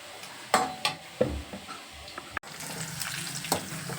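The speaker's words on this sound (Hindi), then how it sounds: "ये है कढ़ी का तड़का" Tadka for kadhi crackling in hot oil with asafoetida (hing) added, a few sharp sizzling bursts over a steady low spatter, with clinks of a stirring spoon; no one speaks.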